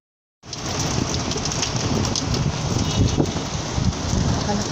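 Steady, dense roar of heavy rain driven by strong wind, starting abruptly and staying loud and unbroken throughout.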